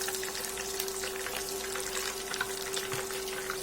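Spoonfuls of pirozhki dough filled with mushrooms and liver going into hot frying oil in a pan, a steady close sizzle with a faint background hum and no talking.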